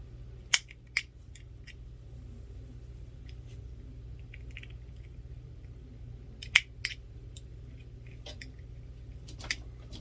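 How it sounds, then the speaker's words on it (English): Several sharp scissor snips cutting fishing line, isolated clicks spaced out over quiet background with faint handling noise in between. "These are not the absolute best scissors to do this."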